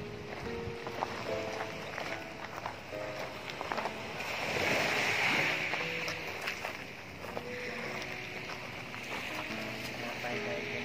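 Ocean waves wash against a beach in a steady, soft surf under breezy wind, with a swelling rush in the middle, while people talk casually over it.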